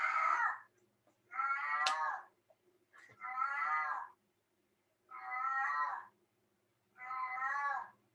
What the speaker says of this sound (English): A noisy cat, sorry.